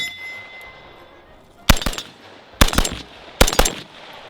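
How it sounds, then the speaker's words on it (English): A CMMG MK47 Mutant short-barreled rifle, an AK hybrid in 7.62x39 with a carbine-length gas system, fires three sharp, loud shots spaced about a second apart, each cracking hard and then ringing briefly in open air. "This results in a lightweight, soft-shooting rifle with a magnificent fireworks display at the business end."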